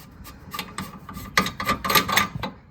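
A strut nut on a car being turned out, giving a close run of short raspy grinding and clicking strokes that quicken and grow louder toward the end.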